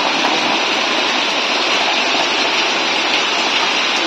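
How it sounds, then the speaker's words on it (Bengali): Heavy rain from Cyclone Remal pours down in the Sundarbans, a loud, steady broadband roar of downpour that stays constant and close throughout, with no voices. "দেখুন এই যে আপনাদের বলছিলাম প্রচুর বৃষ্টি হচ্ছে"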